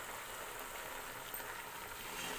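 Paya, goat trotters, fry in a pan with yogurt over low heat, giving a faint, even, continuous sizzle with no talking.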